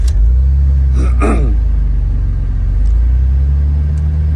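Jeep with a manual transmission cranking and catching, its engine then settling into a steady loud rumble that runs close up through the rest of the moment, with a brief burst of starter whine near the start.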